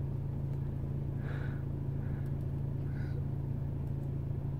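Mercedes W212 E250 diesel with a DPF fault, engine running while driving; a steady low engine drone with road rumble continues throughout at moderate level, with faint higher tones drifting in now and then.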